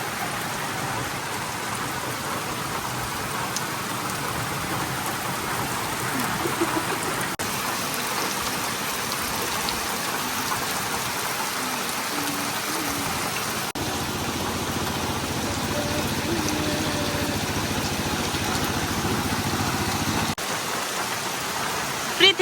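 Heavy monsoon rain pours steadily over a village, heard from a small roadside shelter as a dense, unbroken roar of drops that stays loud and even throughout.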